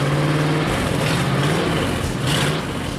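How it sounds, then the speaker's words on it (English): An old truck with stock truck mufflers rumbles in a steady, loud, close engine drone with a low throbbing pulse that swells slightly near the end. "I kept stock truck mufflers because I wanted it to sound like an old truck"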